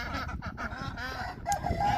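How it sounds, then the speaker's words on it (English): Noisy farmyard ducks honk and quack repeatedly in an irregular rhythm, fairly close, mixed with bursts of other fowl calls and faint background rustling. "There's the noisy ducks."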